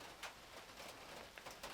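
Rain falls outside a van during a summer thunderstorm as a faint, steady hiss. A few slightly louder drops patter now and then.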